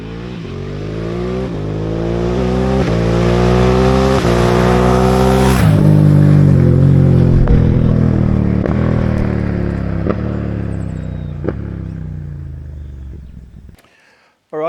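A Ducati Desert X motorcycle makes a flyby on a private road. Its engine swells as it approaches and revs through rising gears, then passes loudly and fades into the distance, alone without talk.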